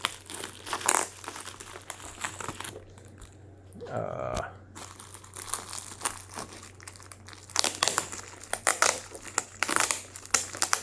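New game consoles being unboxed from heavy packaging, with loud crinkling and crunching of plastic and wrapping in bursts. A brief quieter gap falls midway, and voices can be heard at points.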